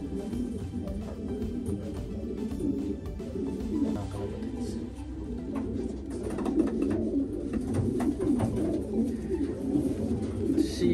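Racing pigeon hens in a loft coo steadily and close by, soft overlapping calls over a constant flutter and shuffle of birds, with no talking.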